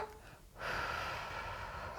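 A deep inhalation into the belly during a core exercise routine, a close, airy breath that swells after a brief pause and holds steady to the end.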